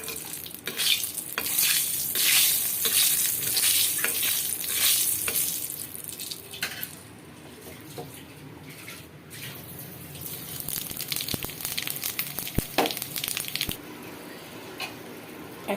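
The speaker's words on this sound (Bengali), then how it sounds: "কচু শাক বাগার করছি" Taro leaves are tempered with dried chillies and panch phoron in a hot pan, giving a steady close sizzle and frying hiss with repeated stirring scrapes, easing slightly partway through before several sharp clinks.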